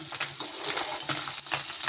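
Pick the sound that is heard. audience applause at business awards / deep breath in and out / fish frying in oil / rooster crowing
fish frying in oil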